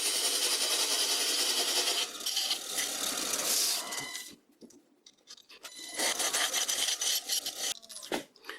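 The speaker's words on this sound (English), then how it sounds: "I'll do this with the flimsy chisel." Rough rasping of a chisel scraping across wood spinning on an old wood lathe while turning a carver's mallet, steady at first, then easing off into a quieter gap before the harsh cutting resumes in bursts.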